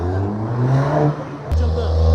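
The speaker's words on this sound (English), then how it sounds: "Give me some loud engine rev, please." A Toyota Supra's 3-litre turbo engine gives a short, loud rev that rises and settles, then picks up again, with a voice briefly audible over it.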